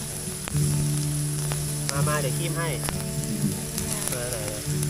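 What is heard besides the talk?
pork sizzling on Thai barbecue grill pan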